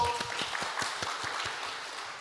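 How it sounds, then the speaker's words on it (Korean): Church congregation at a Friday evening service applauding, moderately loud, with a few sharper claps standing out from the steady patter. "박수 주세요."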